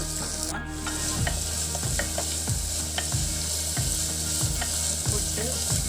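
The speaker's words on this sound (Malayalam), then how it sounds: "സവാളയുടെ പകുതി ചെറുതാക്കി വെച്ചതും ഒരു 5-6 അരി ചെറിയ ഉള്ളിയും കൂടി അരിഞ്ഞതും കൂടിയിട്ട് നന്നായിട്ടൊന്ന് വഴറ്റി കൊടുക്കാം" Chopped onion and small shallots sautéed in a pan with salt give a steady, close sizzle, broken by the regular scrape and clink of a spoon stirring against the pan.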